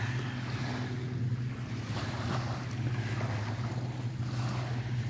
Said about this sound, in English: It's all about the waves.